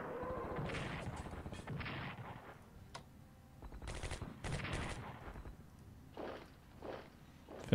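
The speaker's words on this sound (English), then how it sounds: "Fucking Katyusha rockets!" Katyusha rocket artillery firing in a WWII strategy game, a series of sharp bursts and rumbling impacts in uneven clusters, some close together and some spaced apart, at moderate loudness with no talk.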